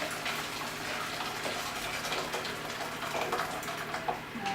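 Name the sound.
pouring boiling water into steamer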